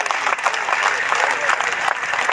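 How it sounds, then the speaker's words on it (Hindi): Crowd applause at an election rally addressed by Defence Minister Rajnath Singh in Baijnath, a loud sustained wash of many hands clapping, steady throughout. "हाथ उठाकर तालियां बजाकर उनका अभिनंदन करते हैं।"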